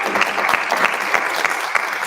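An audience applauds a professor arriving to give a demonstration, steady dense clapping sustained throughout with no speech.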